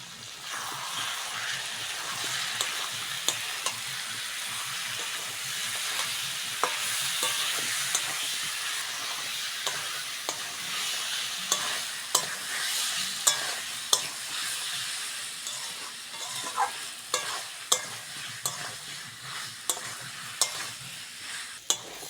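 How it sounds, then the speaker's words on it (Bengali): Ground chili, ginger, garlic and turmeric spice paste stir-fried with tangra fish in a pan: a continuous close sizzle with frequent spatula scrapes and taps. "মশলা ভালো করে কষে নিয়েছি"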